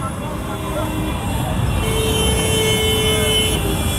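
Busy Indian road traffic on Ram Marg is heard from a motorbike, with a dense rumble of engines and a long horn blast sounding midway, while someone talks over the noise.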